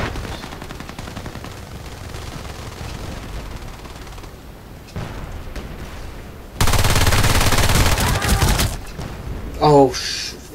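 Gunfire in the video game Battlefield Play4Free, bursts of rapid shots over a noisy game background, with a loud dense burst in the latter half and a short sharp blast near the end.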